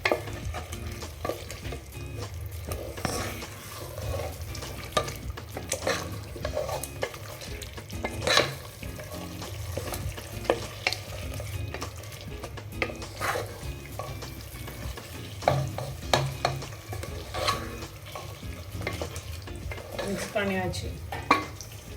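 Marinated chicken being stirred and fried in a pan for chicken biryani, with steady sizzling under repeated scraping and clinking of a spoon against the pan, close and continuous.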